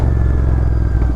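A 2025 GT motorcycle engine runs loud and close, a steady throaty rumble with slight throttle swell over about a second and no talk.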